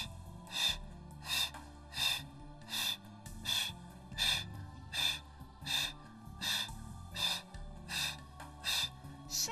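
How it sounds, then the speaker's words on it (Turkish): Rhythmic breathing during a pilates exercise, about a dozen strong breaths in and out at a steady pace, close and clear with quiet background music. "Nefes alıyorum, nefes ver"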